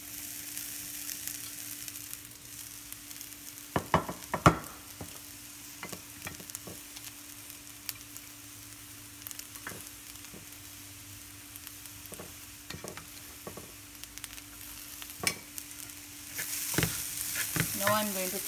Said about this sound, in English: add the rice to it and mix.